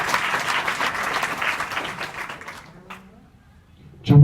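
Schoolgirls in a classroom at a girls' higher secondary school break into a burst of lively applause that carries on for about two seconds, then fades out to near silence before a sudden close knock.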